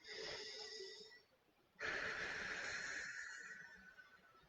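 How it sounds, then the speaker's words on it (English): Slow, deep breaths during a mindfulness movement exercise: a long, airy inhale, a brief pause, then a fuller exhale, close and alone with no talking. "Take 3 more breaths, these 3 full three-dimensional breaths."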